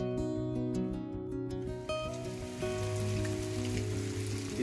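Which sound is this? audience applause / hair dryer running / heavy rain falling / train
heavy rain falling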